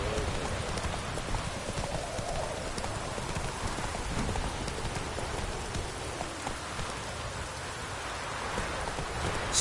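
Roach the horse trotting in The Witcher 3, hooves clip-clopping steadily under a constant wash of rain pattering on surfaces, the hoofbeats partly buried in the downpour.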